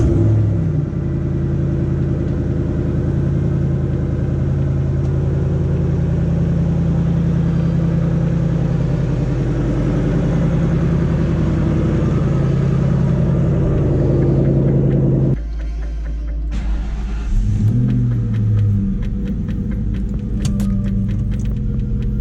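Supercharged Ford Mustang SVT Cobra driving, a loud close engine rumble with steady cabin drone for about fifteen seconds, then dropping to a quieter idle with some faint rattling.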